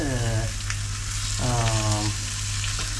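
Marinated meat slices coated in chilli powder, ginger-garlic paste and salt frying in hot oil, a loud close sizzle with bursts of bubbling, no talk over it.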